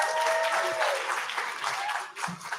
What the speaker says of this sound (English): We're gonna give them a round of applause because they've been so wonderful.